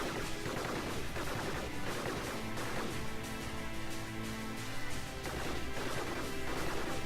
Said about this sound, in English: We just have them shooting at each other